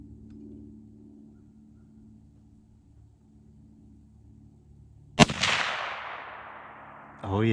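A single loud, close gunshot from a light .350 Legend Ruger rifle cracks out after a quiet stretch while sighting in, its boom rolling and decaying for about two seconds.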